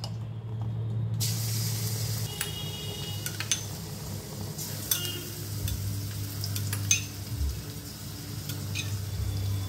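Ginger, garlic and green chilli paste fries in hot refined white oil in a kadai for an aloo chop, giving a steady close sizzling hiss with occasional sharp crackles and spatter pops.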